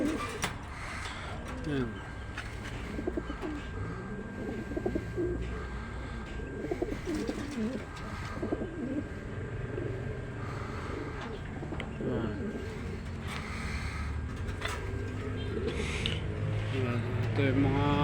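Racing pigeons coo continuously in a breeding loft holding stock cocks and hens, a dense layered murmur of soft throaty calls that runs throughout, with someone speaking briefly over them.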